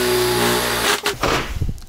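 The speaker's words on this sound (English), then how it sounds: "We're going for the blade drill. Should be used on wood." A spade blade bit in a power drill bores into wood, a steady loud motor whine that breaks off and then returns as rougher, uneven chewing through the timber.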